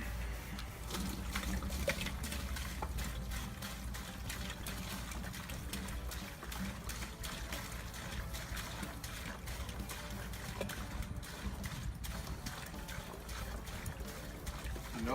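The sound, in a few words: beer being poured off into a wine bucket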